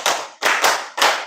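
Students in a classroom clap together in four sharp, evenly spaced bursts with a short pause before the last one.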